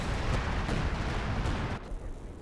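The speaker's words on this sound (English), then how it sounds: "You call assault artillery on your own men!" Assault artillery barrage in Company of Heroes 2, a World War II strategy game: close, heavy thuds and rumbling blasts arriving in quick succession, ending in a sharp cut with quieter rumble after.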